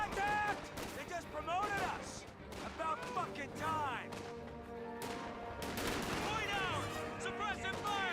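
Rifle squad gunfire in a Company of Heroes 2 battle, with dense bursts of shots and distant explosions filling the mix under a steady, near-continuous stream of speech.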